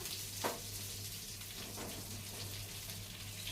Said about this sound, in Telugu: చూడండి ఫ్రెండ్స్ ఇలా ఫ్రై అవుతుంది